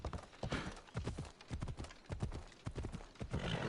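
Horse hooves clip-clopping in a PS4 video game, a quick steady rhythm of close, distinct hoof strikes continuing throughout with a faint neigh, no talk over it.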